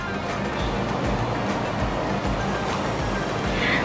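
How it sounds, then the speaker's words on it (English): Ayam Percik sauce is poured onto charred Malaysian grilled chicken, giving a steady, close, rushing liquid pour that continues without a break. "So now I pour the sauce onto the chicken."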